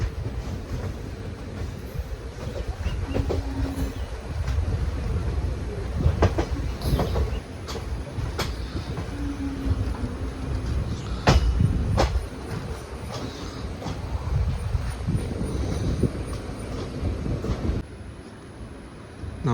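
Guruvayur-Madurai Express rolling slowly onto a loop line, heard from inside a crowded general class coach: steady low rumble with rhythmic wheel clatter, sharp clanks and brief squeals, no talk.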